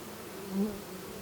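Honeybees hum around beehives during a summer colony check after the honey harvest, a faint low buzz swelling briefly as one bee passes close, then fading back into quiet background.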